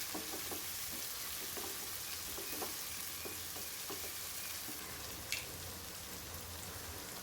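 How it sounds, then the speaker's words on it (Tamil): Onions and tomatoes sauté in a pan for Tamil kara kuzhambu, giving a continuous close sizzle with scattered light clicks and scrapes from stirring throughout. "வெங்காயமும் வதங்கிடுச்சு தக்காளியும் சேர்த்து நல்லா வதக்கி விட்டுக்கிறேன்"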